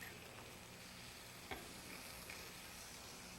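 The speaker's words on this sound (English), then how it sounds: "You can hear our tuna going to town." Tuna sears in a hot pan with a steady, fairly quiet sizzle and crackle, broken by a few small pops.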